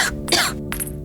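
A queen coughs close up, a couple of short, harsh, throaty coughs in quick succession.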